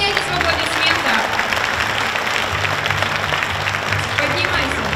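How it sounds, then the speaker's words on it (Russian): Audience applause at a regional orchestra soloist competition award ceremony, a dense, sustained crowd clapping filling the room evenly from start to finish, no voices over it. "Дорогие друзья, не стесняйтесь в аплодисментах."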